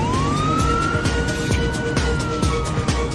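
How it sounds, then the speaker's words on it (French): Fire truck sirens wail continuously as the trucks rush onto an airport runway, a loud rising-and-holding tone over rhythmic horn-like pulses and road rumble. "9 camions de pompiers viennent de toute urgence se poster sur une des pistes de l'aéroport"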